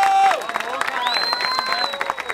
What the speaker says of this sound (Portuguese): Uma salva de palmas pra amizade